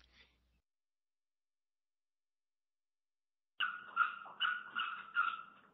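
A puppy makes a short run of whiny, pulsing yelps and whimpers at close range after a long quiet stretch, heard alone during a live podcast.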